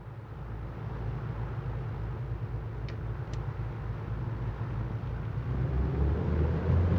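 A simulated A2A Aerostar 600 taxis over a bumpy, dirty track for takeoff, its engines a continuous low droning rumble with a pulsing beat that swells slightly louder toward the end.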